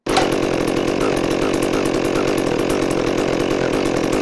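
A Stihl MS400C chainsaw runs at a steady, loud idle-to-high drone close by for the whole stretch after starting, a constant buzzing engine roar with no voices.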